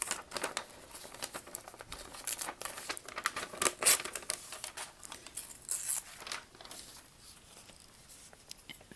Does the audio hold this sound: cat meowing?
no